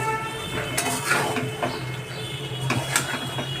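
Pots and metal utensils clatter and scrape at close range while chicken kosha cooks in a home kitchen, with scattered knocks over a steady background hum and no talking.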